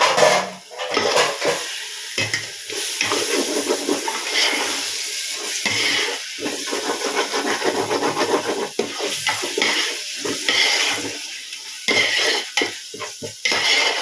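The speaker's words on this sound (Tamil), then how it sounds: "இப்போ நம்ம திறந்து ஒரு டைம் கலந்து விட்டுக்கலாம்." Chicken biryani stirred in a cooking pot, with a spoon scraping and clinking against the metal over a continuous sizzle, in repeated close strokes that come and go.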